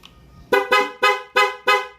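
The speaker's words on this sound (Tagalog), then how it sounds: "So, yun yung ating PIA loud horn." A PIAA loud horn fitted to a Yamaha Sniper 155 motorcycle gives five sharp, loud honks in quick succession, close and clear with no talk.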